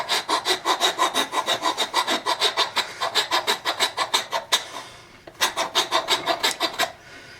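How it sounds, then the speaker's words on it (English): Rasp filing down a wooden axe handle in fast, even back-and-forth strokes, a loud close rhythmic grating that runs steadily, stops briefly, then resumes for several more strokes. "take it right back off with a rasp"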